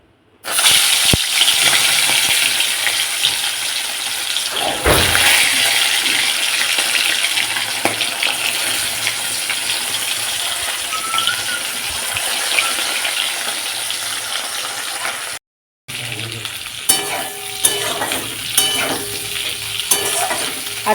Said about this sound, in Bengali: মাছগুলো ঝপঝপ করে ভেজে নিই আগে